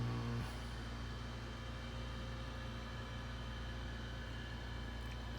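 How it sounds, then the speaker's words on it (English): A noisy room air conditioner drones as a constant, even background hum with a faint tonal whine, unbroken throughout and with no speech. "Excuse my noisy air conditioner in the background."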